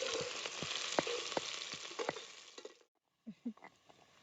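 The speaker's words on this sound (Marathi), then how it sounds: "तेल गरम झालंय चांगलं. कांदा चिरून घेतलेला आता त्यात टाकून घेते." Chopped onion dropped into hot oil for a mutton vajri curry, crackling and frying loudly for a few seconds with sharp spits and pops, then a brief gap and a quieter burst of sizzling.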